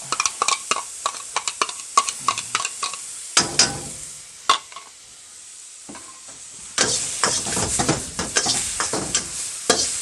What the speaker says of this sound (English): We'll get the onion and garlic in straight away